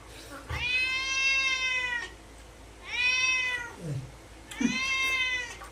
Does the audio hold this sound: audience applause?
no